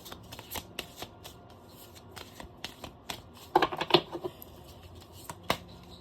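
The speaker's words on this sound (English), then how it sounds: "I figure I'd give you guys another shuffle" Tarot cards shuffled by hand, giving a soft papery riffle of quick flicks spread across the clip, with a denser burst of card clatter in the middle, close and fairly quiet.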